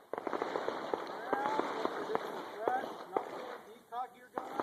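Handgun shots crack out during one-on-one handgun instruction on a range, a series of sharp, fairly close reports spaced unevenly, with a voice speaking briefly between them.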